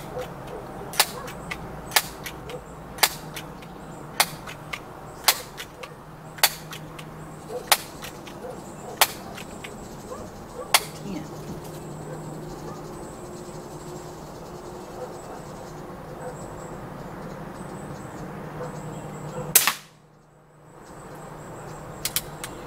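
A Crosman .22 or .177 air pistol fires repeatedly at a target, sharp snapping shots spaced a second or two apart, followed by a quieter stretch and a final louder crack with a brief hush after.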